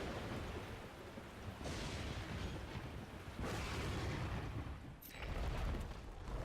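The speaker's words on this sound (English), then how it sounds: "So as I said, the lightning will happen first." Lightning strike in the tactical video game Into The Breach, a broad rumbling thunder-like boom with a sharp crack near the five-second mark, loud and sustained over a stormy rain-like wash, with no talking.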